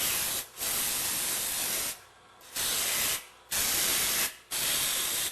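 Bursts of spray blasting gunk off the pump parts of a Meyer E-60 snowplow pump, loud hissing jets near the mic, four in a row broken by short pauses.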